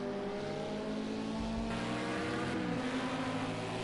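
A Lamborghini race car in a historic endurance race at the Nürburgring runs past with a steady, sustained engine drone. The engine shifts pitch partway through the pass, and no other sound covers it.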